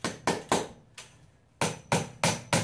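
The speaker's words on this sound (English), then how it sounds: "Hammer that over. So it stays nice and tight." Hammer blows bending metal over into a tight, sharp fold: eight loud, close, sharp strikes in two bursts separated by a brief pause, with no talking.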